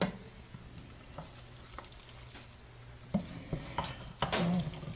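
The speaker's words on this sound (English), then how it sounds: "let's stir the pot." Jambalaya being stirred in a pot, with soft scraping and sizzling from the cooking rice mixture, quiet at first and then louder, irregular stirring knocks toward the end.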